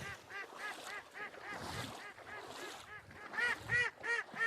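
A flock of ducks quacking and honking in a steady, overlapping chorus, fairly close, with louder calls near the end.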